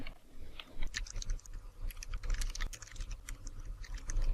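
Rapid keystrokes on a computer keyboard, steady irregular clatter of close, fairly loud key taps running throughout with no voice.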